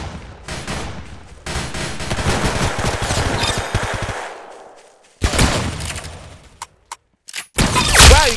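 Rapid automatic gunfire in the Roblox-style shooter Arsenal, loud dense bursts of shots with short silent gaps and a few isolated single shots, no talk.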